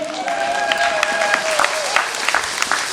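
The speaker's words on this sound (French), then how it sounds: "Est-ce qu'on peut acclamer Dieu?" Wedding guests at the marriage of Joseph and Alphonsine applaud and cheer in acclaim of God, a dense burst of clapping from a crowd with a few raised voices over it, lasting throughout.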